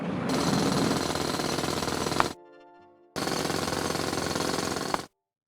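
A mining drill from the game Chipmatic runs in two loud, harsh, rattling bursts of about two seconds each, separated by a quieter humming pause, then cuts off abruptly.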